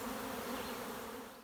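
A swarm of honey bees buzzes steadily in a bush outdoors, a dense continuous hum close by that holds level and fades slightly at the end, with no voices.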